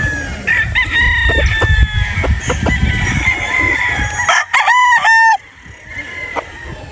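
A Boston Sweater gamefowl rooster clucks and calls up close, then lets out a loud full crow near the end, with other birds faintly audible in the background.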